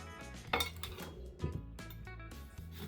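A lemon wheel drops into a cocktail glass, making a couple of soft clinks and light knocks against the glass over quiet background music, close and faint.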